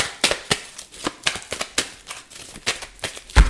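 Rapid, irregular papery riffles and flicks of a large deck of cards being shuffled, close and fairly loud, with a sharper thump at the end.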